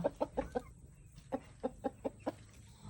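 Chickens cluck in a quick run of short, sharp notes, pause briefly, then cluck again in a second burst, fairly faint and close with no talk.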